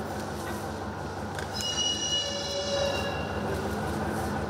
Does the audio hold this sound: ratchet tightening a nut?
no